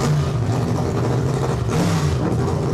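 A race car blasts off from the line in a drag race, a loud, dense engine roar under hard acceleration that stays steady and close throughout.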